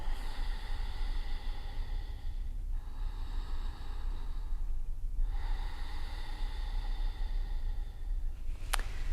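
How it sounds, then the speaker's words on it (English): Ujjayi pranayama breathing during a yoga class: slow, deep breaths drawn in and out through the nose with a soft oceanic hiss, close and steady, two long cycles with brief pauses between, ending in a sharp sniff. "Take a few more deep breaths, engaging your Ujjayi pranayama. Breathing in and out of your nose, listening to your breath."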